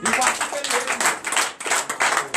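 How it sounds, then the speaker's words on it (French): Worshippers at a night deliverance and prophecy church service in Benin clap in acclamation, bursts of rhythmic group clapping mixed with voices and cheers. "Donnez l'acclamation à Jésus"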